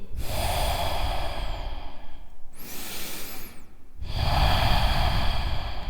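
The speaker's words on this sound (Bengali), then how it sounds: "রূপেশ নিজের নিঃশ্বাসের শব্দ শুনতে পাচ্ছিল" Slow, heavy breaths drawn in and pushed out, loud and close, with a brief pause between two long exhalations and no speech.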